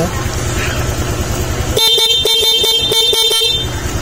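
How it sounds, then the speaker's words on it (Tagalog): A stock horn on a Honda Click 125 motorcycle honks in a rapid series of short, loud toots over steady engine rumble, after a stretch of idling. "Try natin magbusina. Stock horn gamit,"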